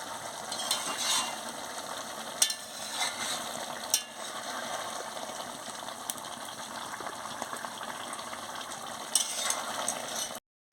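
Papaya and soybean curry cooking in a pan, a steady close sizzle with repeated scraping clicks and knocks of a spoon stirring against the metal, no talk.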